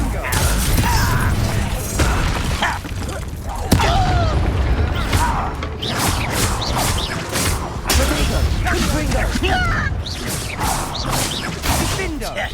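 Repeated booming blasts and crackling bursts of the Confringo fire spell in Hogwarts Legacy land amid mechanical clanks and combat noise, with voices speaking intermittently over the fight.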